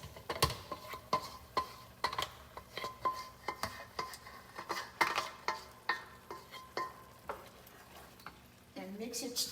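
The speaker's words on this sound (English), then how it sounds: "I am going to add this sauce to the rice." A spoon stirs sauce into jollof rice in a pot, giving a run of soft irregular scrapes and clinks against the pot over a faint sizzle, close by and fairly quiet, with a brief voice at the end.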